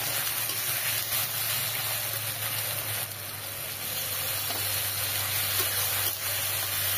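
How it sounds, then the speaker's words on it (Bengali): Ginger-garlic paste sautéing in a pan with a splash of water, giving a steady, loud spraying hiss and sizzle that runs unbroken from start to finish, with no talking. "একটু জল দিয়ে কষিয়ে নেব।"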